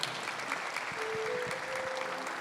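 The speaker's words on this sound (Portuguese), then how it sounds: "Vamos aplaudir a avó?" A church congregation claps for an elderly grandmother, producing a brief, moderately loud patter of applause with a faint tone or voice drifting underneath.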